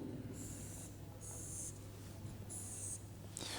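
A pen scratches out the outline of a triangle on paper in several short, faint strokes separated by brief pauses, set against a low steady hum.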